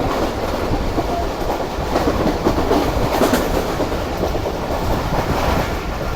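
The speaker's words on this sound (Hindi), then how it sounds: "अब बस स्ट्रेट लाइन पर हमारी ट्रेन अब दौड़ेगी।" A Jaffer Express passenger train hauled by a Chinese locomotive runs fast along straight track toward Lahore, with a steady loud rumble and rhythmic clickety-clack of wheels heard from inside the carriage, no voices.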